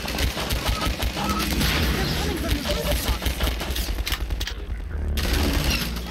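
Gunfire from a firefight in the PC shooter Half-Life 2: Episode One: dense, continuous rattling shots over a busy game soundscape with some speech, dropping out briefly near the end before resuming.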